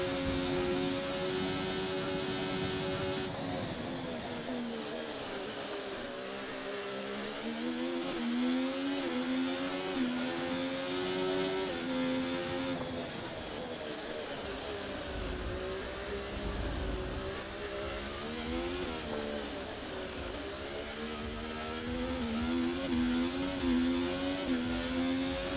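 Simulated Formula 1 race car engine from the F1 24 video game at the Las Vegas Grand Prix, a steady high-pitched whine rising and falling through gear changes, continuous and up close, with no talk.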